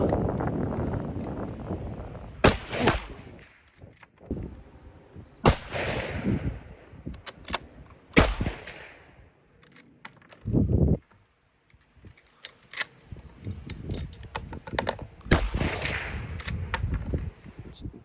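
Gunshots at an outdoor shooting range in New Zealand, several sharp loud cracks spaced a couple of seconds apart with wind noise and brief rustling between shots.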